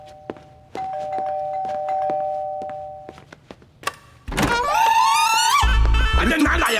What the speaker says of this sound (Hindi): तेरा बाप बाहर खड़ा रह के घंटी पे घंटी बजाते जा रहा है